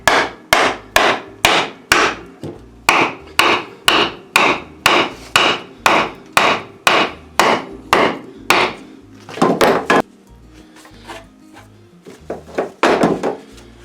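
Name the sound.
hammering handlebar grip onto CanAm ATV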